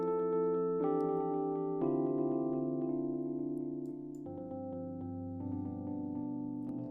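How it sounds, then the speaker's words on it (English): Multi-tap delay effect built in MaxMSP with delay~, tapin~ and tapout~, sounding as a sustained, layered tone whose repeated echoes stack into shifting chords, steady in level and moving through a few pitch changes. "This is already a multi-tap delay of sorts."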